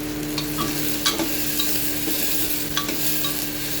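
Potato and onion frying in a pan while being stirred, a steady close sizzle with periodic spatula scrapes and clinks, no voices.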